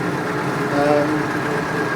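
A Massey Ferguson MF 590 tractor, nearly 30 years old, runs with a steady, loud engine drone that swells slightly midway, while someone talks over it.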